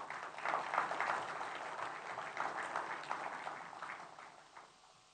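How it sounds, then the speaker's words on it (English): Audience applause at a gathering welcoming business leaders from scores of companies, some of the largest in China; steady, moderately distant clapping that holds for several seconds and then tapers off toward the end. "Let's give them a big applause"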